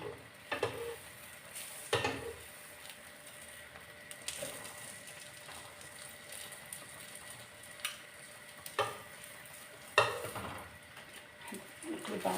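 Beans stirred in a home cooking pot with a little butter, giving soft, irregular scraping and clinking strokes of a spoon against the pot, with occasional sharper knocks spread through a quiet kitchen.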